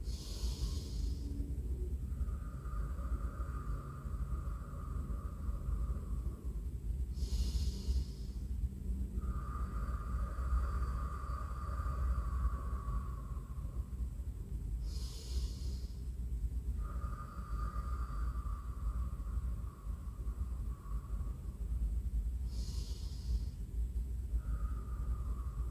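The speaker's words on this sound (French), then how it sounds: "Inspirez et on expire tout doucement." Slow, deep yoga breaths repeat about every seven to eight seconds, each a soft airy inhale and exhale, close and steady over a faint low background hum, with no talking.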